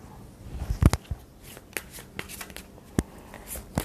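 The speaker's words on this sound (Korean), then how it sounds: "자, 그 부족했던 좀 일쪽으로 생각하면서 카드 뽑아보도록 할게요." Tarot cards shuffled and handled up close at a quiet table: soft papery riffles and sharp flicking snaps, irregular and fairly faint, with no talking.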